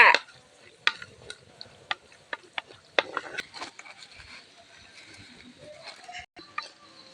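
Cashews roasting in a pan until golden for Tamil milk payasam, with a soft continuous frying hiss behind scattered sharp scrapes and clicks of stirring, heard close and alone.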